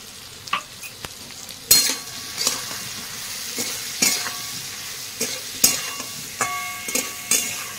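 Papaya and potato fry with turmeric, Kashmiri chili, salt, green chilies and coriander-cumin powder as a spoon stirs the pan, a soft sizzle under repeated sharp scrapes and clinks of metal against the pot.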